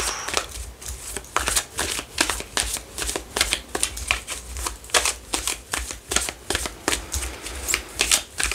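Tarot cards are shuffled and handled up close, a rapid run of crisp riffling flicks and soft slaps repeating rhythmically for several seconds with no voice over them.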